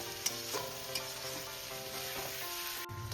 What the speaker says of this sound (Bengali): সিদ্ধ করে রাখা এই আলুর সাথে মশলাটাকে আবার একটু আমি কিছুক্ষণ কষিয়ে নিচ্ছি